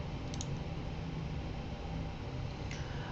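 Faint, quick mouse clicks in a quiet room as an instructor clicks a grade button in an online discussion forum: a soft double tick early on and another near the end, over a low steady hum.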